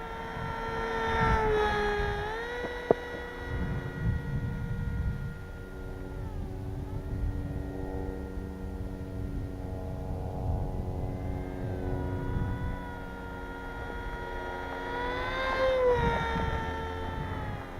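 A ZOHD Nano Talon RC plane flying overhead, its thin propeller whine sweeping up and down in pitch as it passes, moderately distant with quieter stretches between passes.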